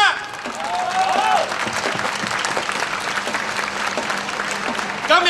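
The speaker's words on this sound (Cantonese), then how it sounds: "我哋俾掌聲，學生！" A crowd at a student protest outside the government headquarters claps loudly and steadily for several seconds, with scattered voices and a speaker's voice mixed into the applause.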